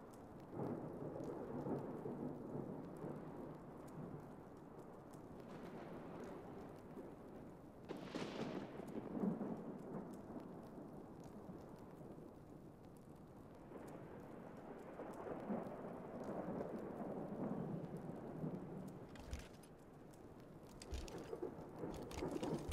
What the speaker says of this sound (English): I could make it actually rain.